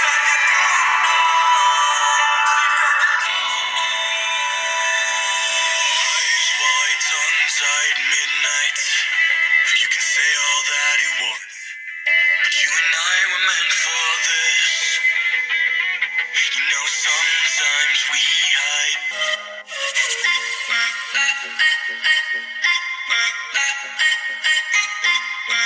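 A Vivo V20 SE smartphone speaker plays music at maximum volume, loud and continuous for about 25 seconds, with a thin, bass-light tone and a brief dip midway.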